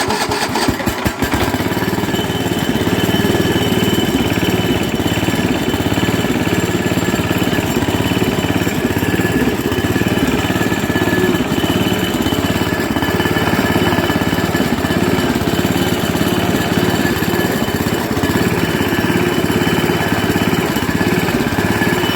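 Sears ST16 garden tractor engine cranks briefly, then catches and runs at a steady, loud, continuous idle close by, with no talk over it.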